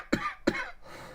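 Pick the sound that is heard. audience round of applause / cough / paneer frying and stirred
cough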